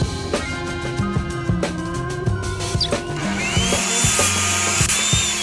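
Power tools at a construction site whine and drill in repeated bursts with short pauses between them, loud and close, over an ongoing background clatter and no speech.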